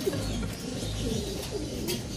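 Pigeons coo softly and repeatedly at close range in low, rolling calls, with a steady outdoor hum behind them.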